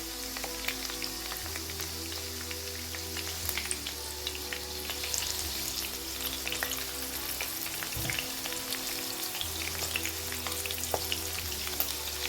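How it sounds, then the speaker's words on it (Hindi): Oil sizzling on a low-medium flame for namkeen gosht, a dense, even crackle like light rain on a surface, broken by a few stirring scrapes, close and soft. "इसको लो से मीडियम फ्लेम पर रख के हम इसको तकरीबन 2 मिनट के लिए फ्राई करेंगे"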